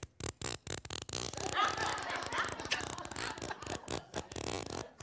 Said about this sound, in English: First up is my favorite, the zip tie.